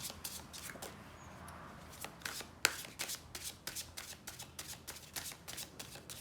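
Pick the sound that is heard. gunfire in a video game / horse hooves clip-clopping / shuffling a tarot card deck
shuffling a tarot card deck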